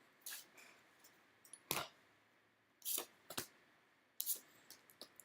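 Tarot cards being shuffled by hand, a run of quick dry riffles and flicks in separate bursts with short quiet gaps, close and fairly soft against a silent background.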